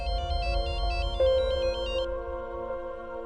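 A mobile phone rings with an incoming call, playing a repeating electronic ringtone that sounds clear and fairly close, with a melody that shifts partway through. No one speaks.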